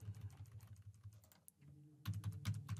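Rapid typing on a computer keyboard while a dummy card number is entered in an online payment form, a dense close run of key clicks that pauses briefly midway and then resumes more loudly, with no voices.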